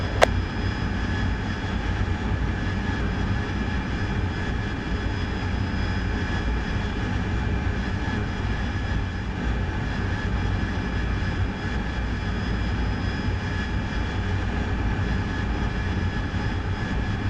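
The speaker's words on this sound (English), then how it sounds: "Oh, you will hear the Tomcat boys soon." Sustained engine roar from F-14 Tomcat jet aircraft in the DCS World combat flight game, a steady, loud, broadband drone holding level throughout with no voices.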